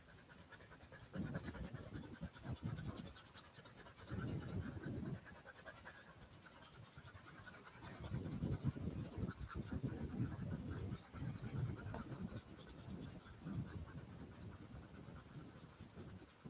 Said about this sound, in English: The one thing I will say about these pencils is they're really nice and smooth.